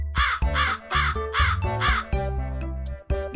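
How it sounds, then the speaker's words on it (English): Hooded crow giving a run of about five harsh, loud caws in a steady rhythm, close and clear over faint background music. "Hooded crow."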